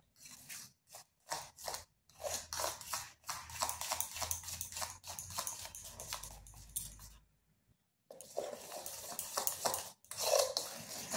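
Semolina and egg batter being mixed in a bowl produces quick, close scraping and clinking strokes in bursts, with a brief pause before the mixing resumes.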